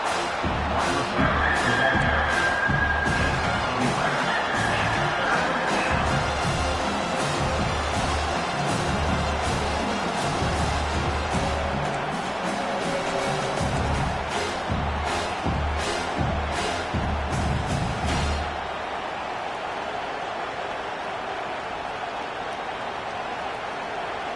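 A college football stadium crowd roars steadily behind the defense, a broad wash of cheering and noise that drops off sharply to quieter murmur near the end.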